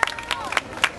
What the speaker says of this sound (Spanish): Ponle palmas, señores, a ver que se sientan las palmas cañetanas.